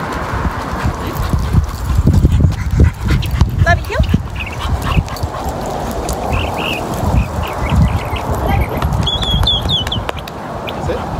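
A pit bull and another dog are heard with rough, scattered barks and some higher whines mixed among dense shuffling and handling noise, with a person talking over much of it.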